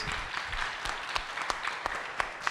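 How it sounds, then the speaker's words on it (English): Lecture audience applauding the volunteers and helpers at a talk event: steady, dense clapping from a crowd in a hall, fairly close and sustained throughout. "Let's give a round of applause to everyone that has helped just putting everything together, please."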